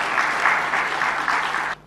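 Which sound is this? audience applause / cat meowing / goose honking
audience applause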